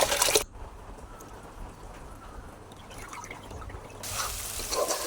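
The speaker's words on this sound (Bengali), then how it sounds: "নামানোর পর পানি দিয়ে একটু ধুয়ে নিব।" Water runs and drips as boiled pasta is rinsed in a home kitchen: a brief louder splash at the start, then a steady low trickle that grows a little louder toward the end, with no voices.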